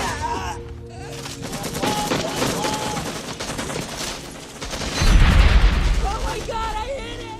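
Gunfire in a Vietnam War film, with a sniper shot among repeated sharp shots and bursts, a heavy boom near the end, all mixed with music and voices.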